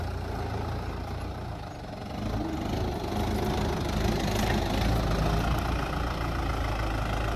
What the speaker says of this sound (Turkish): Şimdi traktör ileri geri yapıyor.